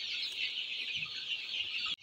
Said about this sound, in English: These are our broilers, 5 weeks old birds.